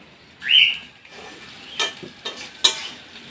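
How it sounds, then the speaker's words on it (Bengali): Chopped garlic goes into a pan to fry on a clay stove, with a brief sizzle and a few sharp stirring scrapes close by. A short bird-like whistle sounds early on. "তো এদিকে রসুন কুচিটা দিয়ে দিচ্ছি।"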